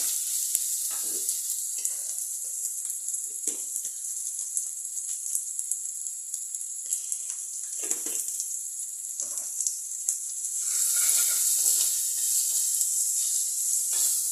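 Chopped onions, three of them cut small, sizzle steadily in a pan, with intermittent scraping and stirring strokes over a constant frying hiss that grows slightly louder toward the end; no voices.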